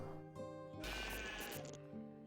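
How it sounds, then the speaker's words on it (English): A sheep in the farming video game The Farm of Fairy Glen lets out a single loud bleat in the middle, with a steady tonal music bed continuing underneath throughout. "Oh, that's a sheep!"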